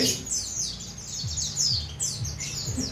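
A pleci, or white-eye, gives a run of quick, high, bright chirps and short twittering phrases, fairly close, repeating every half second or so over a quiet low background hum.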